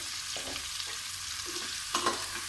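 Cauliflower frying in a pan with salt and turmeric, a steady close sizzle with soft stirring scrapes and a brief louder stir near the end.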